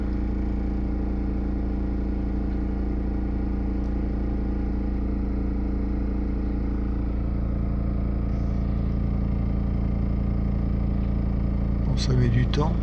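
A Renault Clio 3 1.5 dCi's ventilation fan runs on speed 1 with internal air recirculation, giving a steady, even whir that holds unchanged throughout, with a brief clatter right at the end.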